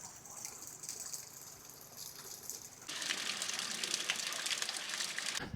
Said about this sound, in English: The other sound you can hear is water leaking through this pair of gates.